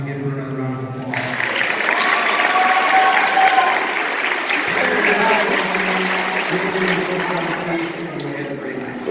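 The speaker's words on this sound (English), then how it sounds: "I just want to give her a round of applause" An audience claps steadily at a middle school spring concert, a broad wash of applause swelling in after a brief moment and continuing evenly, with voices faintly mixed underneath.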